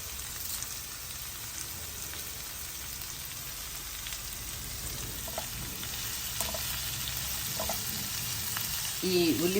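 Onions frying in a pan with curry leaves, a constant crackling sizzle that swells slightly toward the end, close and fairly loud, with no talking.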